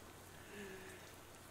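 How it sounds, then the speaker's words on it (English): Rain spattering against a bus window in the video game Shadows Over Loathing, a soft, steady patter that stays faint and even throughout, with no voices. "soon you're dozing off to the sound of rain spattering on the window beside you"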